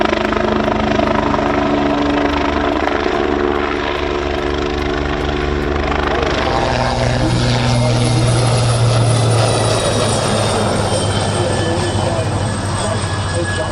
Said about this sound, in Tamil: ஹெலிகாப்டர்களும் விமானங்களும் வானில் தள்ளாடுவது போன்ற சாகசத்தை கண்டு பார்வையாளர்கள் மெய்சிலிர்த்தனர்.